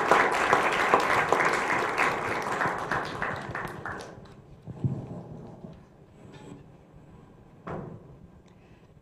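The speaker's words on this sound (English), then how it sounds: "please welcome him with a round of applause" Applause from a crowd at a county freeholders award ceremony, loud and dense at first, then thinning out around the middle, leaving scattered claps and room noise.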